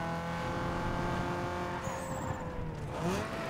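A race car engine from the Need for Speed Underground 2 video game, with a V8-like tone, drones steadily throughout with brief tire squeal toward the end, mid-distance and fairly quiet.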